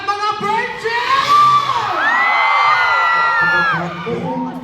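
Crowd of young fans in Toronto shrieking, whooping and cheering loudly and continuously, high excited screams layered over a dense roar, close and sustained throughout.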